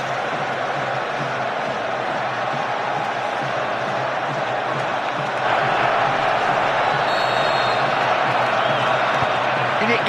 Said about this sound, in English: the noise from the crowd at Wembley, as Beckham prepares to take this free kick